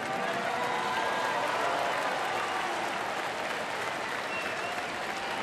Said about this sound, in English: a nice ovation from an appreciative crowd here at Miller Park